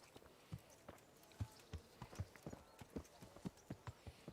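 Horse hooves clip-clop at a steady walking pace in the medieval video game Kingdom Come: Deliverance, a long run of soft, evenly spaced thuds, fairly faint against a low background.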